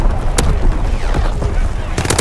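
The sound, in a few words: artillery battery firing in Call of Duty WW2 video game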